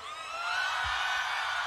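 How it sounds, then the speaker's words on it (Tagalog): Rally crowd on Ayala Avenue shouting and cheering, a dense sustained roar of many voices that swells slightly and holds steady at a distance, with no speech over it. "Pwede ko ba marinig ulit yung inyong hiyaw?"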